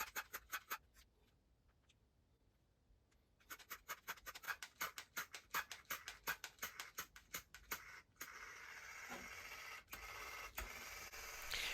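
The small electric motor from a Kenner X-Wing toy ticks and rattles in quiet bursts, then settles into a continuous faint buzzing whir, heard close up with no talking.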